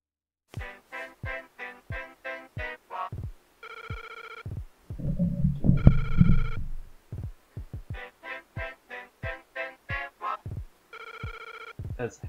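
Telephone ringing in The Legend of Zelda: Link's Awakening: repeated bursts of rapid electronic trills separated by short pauses, with a brief noisy game effect in the middle, loud and alone.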